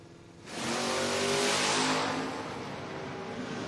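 Drag race cars launching at a Door Wars event, a Mustang among them, with a loud engine roar surging up and holding near, then easing slightly as the cars pull away.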